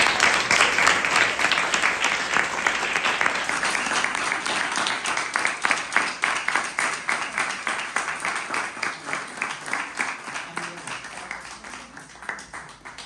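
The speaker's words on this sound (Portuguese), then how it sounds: "uma salva de palmas para eles." An audience applauds after a monograph presentation, with steady, dense clapping from a room of people that gradually thins out and fades.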